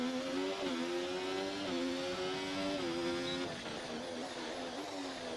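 Formula 1 car in the F1 2025 racing game pulling out of the pits, a high engine whine climbing in pitch through repeated gear changes, steady and close with a slight drop in level toward the end.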